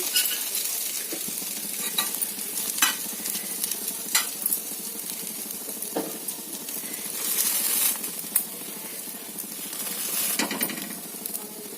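Bread omelette fries in ghee on a pan, a continuous bright crackling sizzle with occasional scrapes and taps of a spatula, close and steady throughout.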